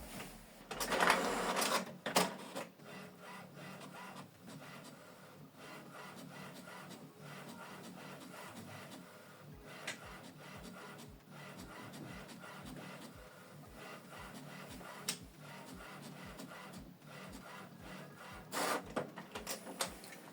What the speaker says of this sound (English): So this document is printing.